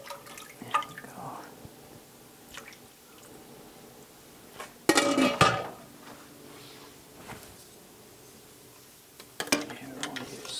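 A utensil scraping the bottom of a casserole pan to loosen cooked-on bits while making homemade chicken and vegetable soup, with a few brief scraping bursts amid quieter kitchen clatter and drips.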